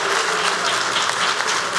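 Audience applause at a diploma ceremony marking a polytechnic institute's anniversary, a full, steady burst of many hands clapping, fairly loud and close, with no talk over it.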